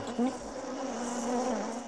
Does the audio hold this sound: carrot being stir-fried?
no